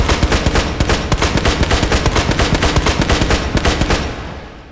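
An SKS rifle in the VR game H3VR is emptied in a rapid string of loud, closely spaced shots, roughly a dozen or more cracks in steady succession before the firing stops and a brief tail fades out.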